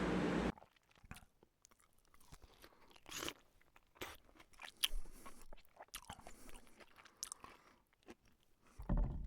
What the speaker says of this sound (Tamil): இப்போ நம்ம சிக்கன் குழம்பு எப்படி இருக்குன்னு சொல்லிட்டு சாப்பிட்டு பார்த்துடலாம்